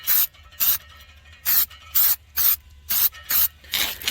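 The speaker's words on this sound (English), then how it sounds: "Can't get to that backside very well, so now I'm going to spray up inside of here." An aerosol can of weld-through primer sprays inside a rear body panel of a Toyota during rust repair, eight short hissing bursts in an uneven rhythm with quiet gaps, close and loud, with no talking.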